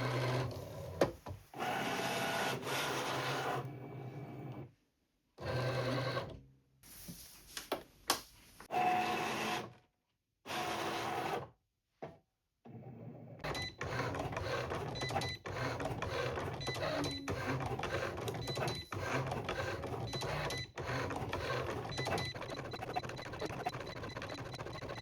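Cricut cutting machine with a fabric blade slicing fusible fabric, giving a mechanical whirring and clicking carriage sound; the first half is broken into bursts with short silent gaps, then turns into a steady, moderately loud run.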